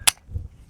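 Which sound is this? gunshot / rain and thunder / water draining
gunshot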